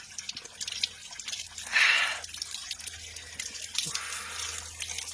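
Cold mountain water is splashed onto a face in a few brief wet splashes and drips, with one louder splash near the middle, set against a quiet outdoor background.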